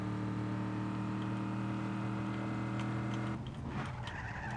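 A car in the video game Just Cause 3 whirs along with a steady engine tone, then breaks into a short, gritty tire skid near the end as the handbrake is pulled, moderately loud with no talk.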